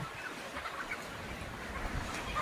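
Soft clucking of free-range village chickens in a shed amid steady outdoor background noise, faint and continuous with no one speaking.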